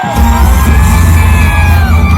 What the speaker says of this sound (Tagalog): Labungin ng mainit na palakpak at sigawan, Vice President Sara Duterte!